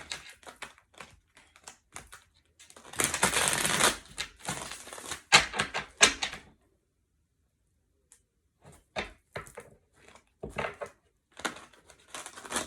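A deck of cards being shuffled by hand, heard as bursts of quick riffling and tapping flicks separated by short quiet gaps, close and fairly soft.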